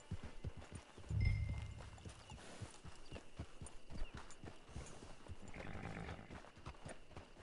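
A horse's hooves clip-clop in a steady walking rhythm in the Red Dead Redemption Online video game, close and distinct, with a faint whinny and a soft low thump early on, and no talking.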